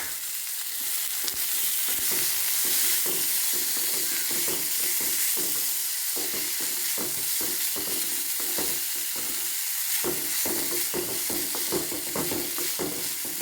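Vegetables fry in a pan of oil with about a tablespoon added, crisping up, sizzling steadily and close by with frequent stirring scrapes, and nobody speaks over it.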